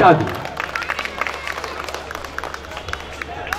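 Mushaira audience applauds a poet coming to the stage, with a loud opening swell of clapping that quickly settles into a lighter, thinning patter of hands and some murmuring.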